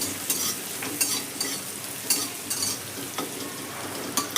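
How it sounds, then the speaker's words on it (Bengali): Minced garlic, eight to ten cloves, fries in oil over a high flame with a dense, bright sizzle, broken by repeated scrapes and taps of a spatula stirring it at close range. "রসুনটা কিন্তু বেশি ভাজবো না হালকাই ভাজ ভেজে নেবো"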